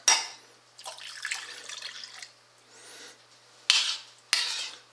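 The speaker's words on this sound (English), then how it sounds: "I'm just going to add the other half cup of water." Half a cup of water is poured into a gelatin mixture in a pot, a short close splash followed by softer trickling and a couple of sharp clinks of utensils against the pot.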